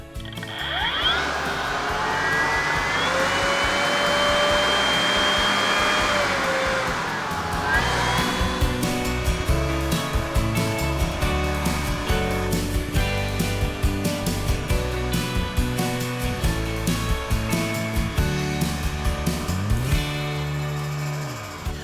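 A Makita BV6040VZ cordless blower vacuum starts up with a rising whine that settles into a loud, steady whirring drone, with rattling flutter running alongside it for the remainder of the run; no voices.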